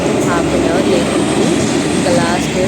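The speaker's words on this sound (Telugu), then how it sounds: "ట్రైన్ వచ్చింది" A metro train rumbles loudly into the station, its steady roar carrying faint high squeals from the wheels and brakes.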